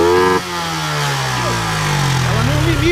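Honda Titan KS 125 motorcycle with a modified engine and competition CDI, running close with a steady buzzing drone that cuts briefly then picks back up and rises in pitch, with talk over it.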